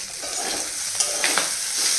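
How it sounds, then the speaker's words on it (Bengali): Continuous crackling sizzle of eggplant frying in hot fish oil, close up, with a few brief spatters and no voices. "এখানে হচ্ছে মাছের তেল দিয়ে বেগুন ভাজা"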